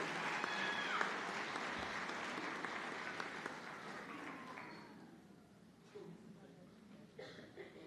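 Sustained applause from a crowd at a white coat ceremony, dense clapping that gradually thins and fades, with a voice speaking briefly over it toward the end.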